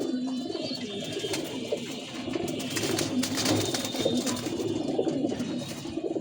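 A male pigeon coos alone in a soft, repeated rhythm, fairly close, over a faint room background.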